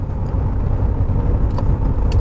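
A 1987 Chevrolet Camaro IROC-Z cruises in fourth gear through a series of curves, its engine a steady low drone under continuous road and wind rumble, heard from inside the car.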